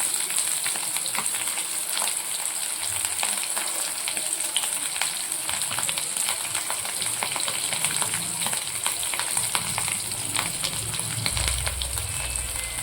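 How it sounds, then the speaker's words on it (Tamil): Spring roll samosas deep frying in hot oil, a steady dense bubbling sizzle that runs unbroken throughout, with faint crackle on top. "இப்போ பார்த்திங்கன்னா நல்லா ஃப்ரை ஆகிட்டுருக்கு."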